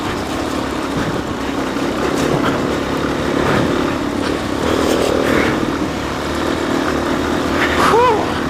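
A motorcycle ridden on a rough dirt road, Gold Camp Rd, with an engine droning and revving steadily under wind and road noise, and brief vocal sounds near the end.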